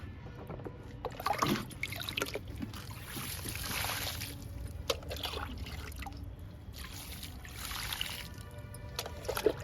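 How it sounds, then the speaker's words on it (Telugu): Water poured onto potted chrysanthemum plants given a tea-powder fertilizer, with repeated splashing and trickling bursts into soil, close and moderately loud, with no voices. "ఇంకా వాటర్ ఇచ్చేద్దామండి చామంతి మొక్కలకి"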